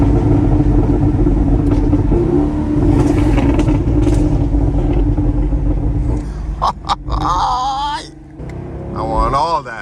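A tuned Camaro SS engine rumbles deep and steady up close in manual mode, with a voice talking over it near the end.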